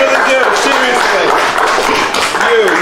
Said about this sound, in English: Please, hands over, round of applause.